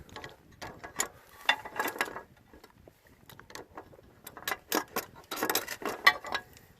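Ratchet with a 3/8 socket tightening bolts on solar roof brackets set on concrete pan tiles, close bursts of quick clicking ratchet strokes with short pauses between them.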